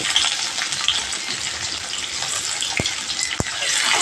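Chopped onions drop into hot oil with panch phoron and dried red chillies, giving a loud, steady hissing sizzle close by, broken by two brief sharp clicks near the end.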